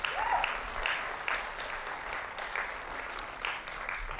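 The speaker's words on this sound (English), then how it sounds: "That deserves an applause." A crowd at a college scholarship awards ceremony breaks into steady applause, a sustained wash of many hands clapping that carries evenly for several seconds at moderate distance.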